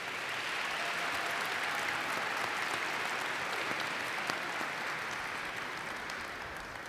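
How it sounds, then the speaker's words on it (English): Sustained applause from a large commencement audience at Southwest Minnesota State University's annual graduation ceremony, a steady dense wash of clapping that holds evenly throughout and eases slightly at the end. "So please give them a heartfelt round of applause to thank them."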